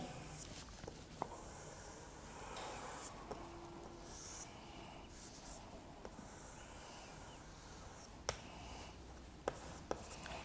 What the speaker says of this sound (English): draw another circle of radius 25 mm